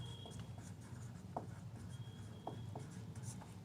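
Chalk or marker taps and scratches faintly as numbers are written on a classroom board, a few sparse short strokes over quiet room hum.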